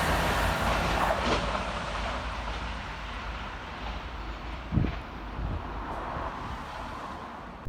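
CrossCountry unit 220023 running through Barnt Green station on the Bristol Temple Meads to Manchester Piccadilly service, a steady rushing rumble of the passing train with wind noise over the microphone and a brief thump near the end.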